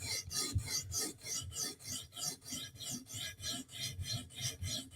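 A knife is drawn back and forth across a sharpening stone to grind off Sharpie marker, a close, steady rasping scrape repeating in even strokes about three times a second.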